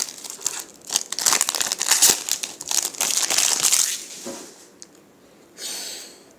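A Pokémon Base Set booster pack being torn open by hand, bursting with dense foil crinkling and ripping for about four seconds, then a short pause and a softer rustle near the end.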